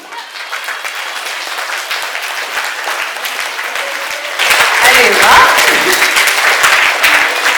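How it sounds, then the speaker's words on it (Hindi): A large audience claps at an Independence Day celebration, the dense applause swelling louder midway through as people stand and clap overhead, with a brief exclamation from a speaker at the start. "तो आप सब लोग खड़े हो जाइए और जोर से ना ऐसे ऊपर हाथ करके तालियां बजा दीजिए"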